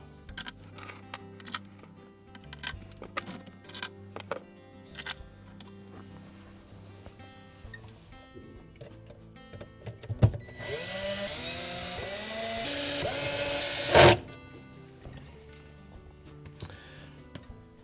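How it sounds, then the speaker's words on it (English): A power driver sets number 20 Torx screws into the pump cover of a Maytag dishwasher, starting with small clicks and taps, then one loud sustained whirring run that ends in a sharp burst; close and alone. "We'll reinstall the 6 number 20 Torx screws."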